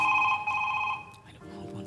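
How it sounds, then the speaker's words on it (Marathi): A mobile phone rings with a steady electronic tone for about a second, fairly loud and close, before it breaks off and a voice starts speaking. "तुझा फोन वाजतोय उठ."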